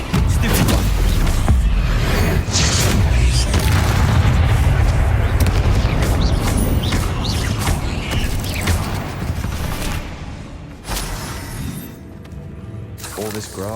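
Blasting-curse explosions and magical combat in the Hogwarts Legacy video game, with heavy booms, crackling blasts and shattering debris over a dense, loud mix, while a character shouts spells.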